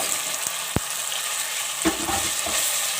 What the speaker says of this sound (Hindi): कीमा डाल के 1 से 2 मिनट हम इसे भूनेंगे।